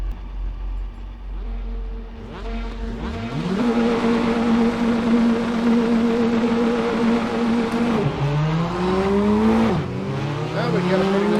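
A Praga R1 race car in a sim racing game, its engine revving up through the gears with a rising whine. The tone steps up and drops at each shift and stays loud and steady throughout.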